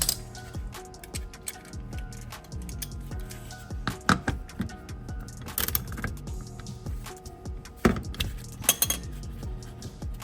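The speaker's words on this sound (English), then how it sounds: "it's locked in by this 10mm socket. So let me just crack that quickly" A 10mm socket ratchet on a Nissan Y33 with a VQ30DET engine gives a close, quiet series of rapid metallic ticks and clicks as a hidden bolt is cracked loose and turned out, with occasional sharper clinks.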